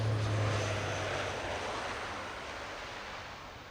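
Military jet landing at an RAF Fairford air show, a broad steady engine roar with low rumble that fades gradually as the aircraft rolls out under reverse thrust and heavy braking.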